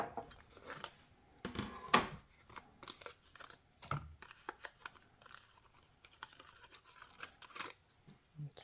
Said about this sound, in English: And then we'll cut the floral image.